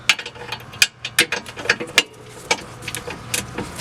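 A ratchet wrench loosens a 14 mm bolt on the sway bar link of a 2006 Scion tC, giving a series of quick, close clicking bursts in an uneven rhythm, with no one talking.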